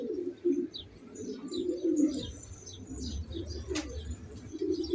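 Pigeons coo in a low rolling murmur close by, joined by a string of quick higher chirps and a brief flutter, with no talking.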